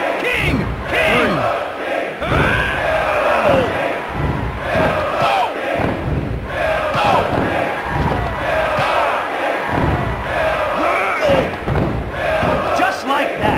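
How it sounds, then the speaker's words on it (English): A capacity arena crowd in the WWF Attitude wrestling video game roars and chants continuously, with loud thuds and slams from the ring punctuating the steady cheering. "Listen to this capacity crowd!"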